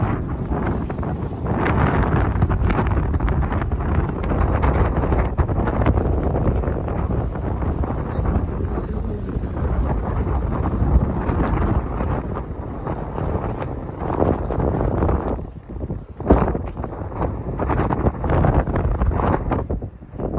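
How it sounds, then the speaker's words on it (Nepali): Strong wind buffets the microphone with a steady, rough roar that rises and falls slightly over about twenty seconds, with no voices. "कस्तो शीतल हावा चलेको"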